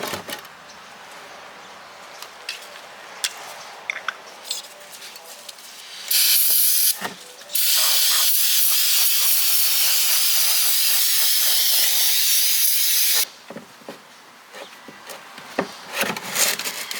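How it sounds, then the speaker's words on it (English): Two long, loud aerosol sprays of brake cleaner onto the oil pan of a 2001 Jaguar XJR hiss steadily, a brief one followed by a sustained blast of several seconds, amid scattered clinks and shop noise. "Clean the oil pan using brake cleaner and wipe it dry."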